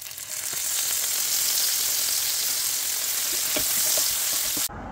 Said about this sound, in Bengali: নিচে যাবো বলে চাপা শুটকি রান্না বসালাম